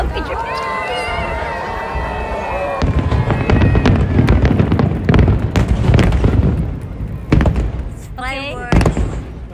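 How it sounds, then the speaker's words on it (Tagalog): Fireworks display at a 2025 festival in Matsue, Japan: repeated booming bursts and crackling explosions fill most of the clip, loud and close, with crowd noise and people chatting and exclaiming throughout. "Fireworks."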